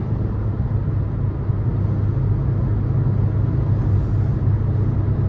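Steady low road rumble and engine drone from a 2023 Nissan Versa SR with a 1.6-liter four-cylinder, heard from inside the cabin while driving, constant and unbroken with no talking.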